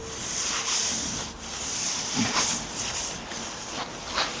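Sanding the body of a 4x4 heavy truck camper conversion, a faint continuous abrasive rubbing with repeated strokes and short bursts, heard alone.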